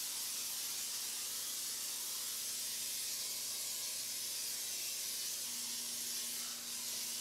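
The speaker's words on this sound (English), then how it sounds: "lightly coat a 4-cup mold or bundt pan with non-stick spray" Non-stick cooking spray hisses steadily from a can as it lightly coats a 4-cup mold or bundt pan, a continuous close, loud spray lasting several seconds with no talk.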